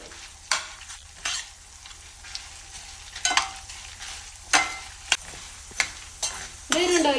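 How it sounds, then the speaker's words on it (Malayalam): Coriander seeds and dried chillies roasting in a pan: soft crackling sizzle with intermittent scraping strokes of a spoon against the metal, close and moderately loud. "മല്ലി മുളകും വറുത്തെടുക്കുകയാണ്"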